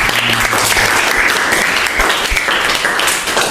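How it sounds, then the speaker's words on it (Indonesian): A classroom audience gives Irwan a round of applause after his answer about patience in Islam, loud dense clapping close by that continues steadily throughout. "Tepuk tangan untuk Irwan."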